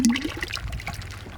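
Water is poured into a pot of rice for a village-style vegetable dum biryani, a brief splashing, trickling pour close by with no one talking.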